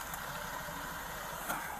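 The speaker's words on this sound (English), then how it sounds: "Exhaust is rattling." A car idles at a roadside police stop with its exhaust rattling, a steady low engine drone and faint buzzy rattle running evenly through the whole short stretch.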